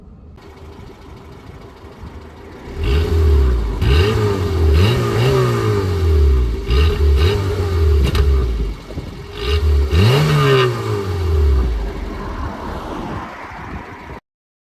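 A Peugeot 106 engine idles low, then revs up and down repeatedly in several loud, rising-and-falling bursts before settling back and cutting off.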